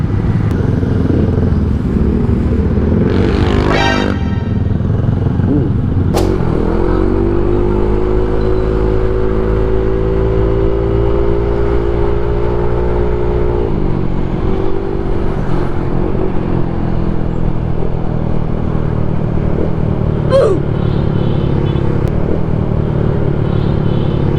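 Road traffic in Tisa, Cebu, with motorcycles and cars: a steady, close engine rumble throughout, with a motorcycle revving and passing in a sustained harmonic drone through the middle.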